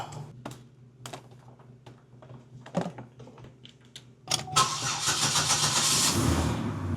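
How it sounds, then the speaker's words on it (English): A Buick LeSabre engine cranks with a few clicks and bursts, then catches and settles into a loud, steady idle close by. "Engine's running a lot better than how it first came in."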